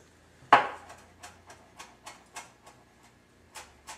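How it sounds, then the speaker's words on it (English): Knife chopping fresh dill on a cutting board, a sharp first chop followed by a steady series of lighter, evenly spaced taps, close and clear in a quiet kitchen. "I also like to use some fresh dill. You can go ahead and chop that up."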